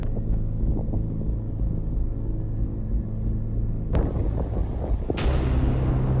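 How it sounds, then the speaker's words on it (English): Strong storm winds buffet a chaser in Ontario with a steady, heavy low roar. A couple of sharp gusts or knocks break through near the end. "The wind speeds hitting me right now are very, very strong."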